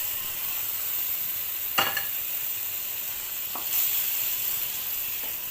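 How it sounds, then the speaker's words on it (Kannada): Boiled mutton sizzles in a pan of ginger masala with a steady frying hiss, broken by a few louder spatters and stirring scrapes. "ಬೆಂದಿರುವಂಥ ಮಟನ್ನ ಅದರೊಳಗೆ ಹಾಕ್ಕೊಂಡಿದ್ದೀನಿ."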